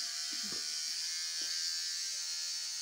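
Electric clippers buzz steadily and close up as a person shaves off all their hair, a continuous high whir running unbroken through the whole stretch with a couple of faint low knocks near the start.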